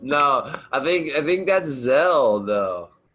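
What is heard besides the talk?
None of the usual background noises is heard.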